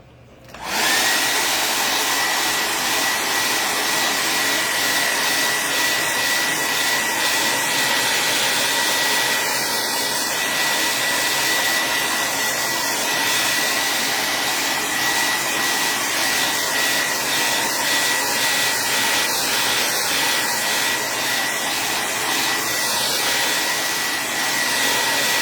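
A hair dryer blows steadily and loudly at close range, drying a handmade patriotic craft sign for the Fourth of July, with a constant airy roar and no talk over it.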